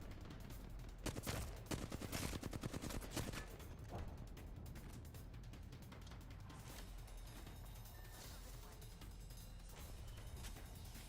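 Flatline rifle fire in Apex Legends during a tournament match, a rapid automatic burst followed by dense, distant exchanges of gunfire under continuous commentary.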